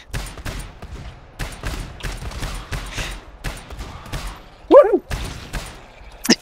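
Rapid gunfire in GTFO rattles in repeated close bursts of sharp shots, with a brief louder crack near the end and occasional voices.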